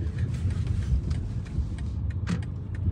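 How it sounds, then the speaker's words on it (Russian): A car rolls past nearby, a rising and fading engine and tyre rumble over a few seconds with no one speaking. "Це ж машина."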